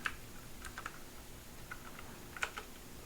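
Computer keyboard typing while editing in vim: a few sparse, faint key clicks scattered over a quiet hiss, including a single sharper keystroke near the end.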